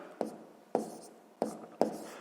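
A pen scratches across paper during a sixth-grade maths exercise, making four short, close, faint scribbling strokes spaced about half a second apart in a quiet room.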